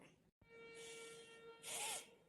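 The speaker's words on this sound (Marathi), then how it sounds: "काऊन शिंका देऊन राहिला?" A single sneeze from someone with a cold, following a brief drop to silence, with a bright breathy burst near the end; no talking.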